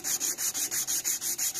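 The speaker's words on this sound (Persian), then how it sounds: "سنباده زدن تا اون شیارای 80 که با سنباده 80 انداختیم از بین ببریم و به سطح نرمتری برسیم." Sandpaper of 180 grit rubbing a wooden knife handle in steady back-and-forth strokes, about ten even passes, close and clear with no talk.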